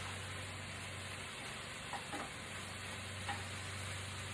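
Kale is stirred into ground turkey frying in a pan, with a soft steady sizzle and a few faint scrapes of the utensil against the pan.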